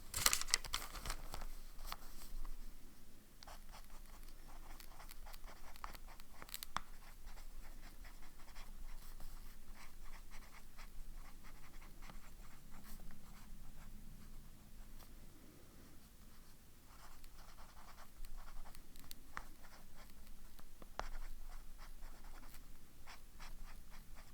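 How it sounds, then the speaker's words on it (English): A pen spreads and writes pigmented ink on paper, giving faint, close scratching and tapping strokes over a quiet room background, continuing intermittently for over twenty seconds. "I'll spread it out with the automatic pen."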